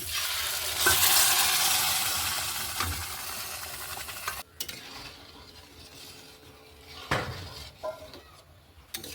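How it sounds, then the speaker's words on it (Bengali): Spice paste with turmeric, onion and garlic frying and being stirred in a pan for pigeon pea dal, a loud steady sizzle with scraping spoon and pot clatter, easing after a sharp clank midway as boiled dal is added and the sizzle softens. "এখন মশলাটাকে ভালো করে কষিয়ে নেব। মশলাটা ভাজা হয়ে গেছে, এখন সিদ্ধ করা অরহর ডালটা দিয়ে দেব।"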